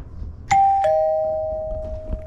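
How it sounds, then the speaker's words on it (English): A mechanical wired doorbell chimes, its struck bars giving two clear ding-dong tones that ring out and decay slowly, loud and close in a quiet house. "The other fun thing we found out is that we have a mechanical doorbell."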